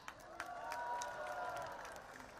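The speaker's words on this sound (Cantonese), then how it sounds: "俾啲掌聲佢鼓勵下佢咧" An audience applauds a women's champion at a Hong Kong community event, a faint, steady wash of clapping from a crowd heard at a distance, with a few sharper claps.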